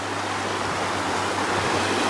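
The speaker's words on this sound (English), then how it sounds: "This will be the River Tame, I would think." The River Tame flowing on a walk between Stalybridge and Mossley, a steady, close rush of water with an even, unbroken hiss.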